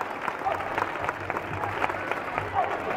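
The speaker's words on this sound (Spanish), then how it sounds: "es un fuerte aplauso para ella" Audience at a cancer-awareness gathering in Calatayud applauding a woman named Cristina, a moderate room of hands clapping in a steady patter, mid-distance and even throughout.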